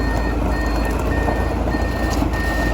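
A large, long truck reversing along a narrow lane in a rubber plantation to dump rocks, its loud, steady reversing beeps sounding over a constant diesel engine rumble.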